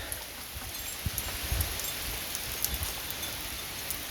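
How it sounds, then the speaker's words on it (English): Steady moderate rain falling outdoors during a pop-up storm, a continuous broadband hiss with scattered drops pattering on a deck and a parked Jeep, leaves rustling in the wind, no voices. "And it rains."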